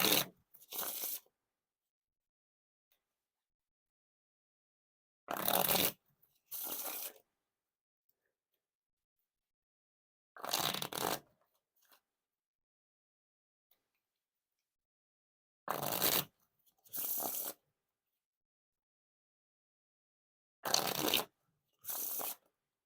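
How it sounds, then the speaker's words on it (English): Bicycle Monster playing cards being riffle and bridge shuffled: five separate bursts spaced about five seconds apart, each a quick ripple followed by a softer cascade, close and clear with silence between. "Now time for the Riffle Shuffle or Bridge Shuffle."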